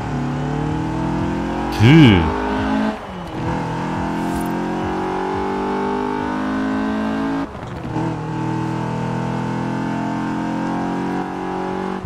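BMW E30 drifting in Forza Horizon 4 gives a loud, raspy engine that revs sharply up and down, with swooping pitch changes and a sustained high-revving drone, while someone speaks briefly over it.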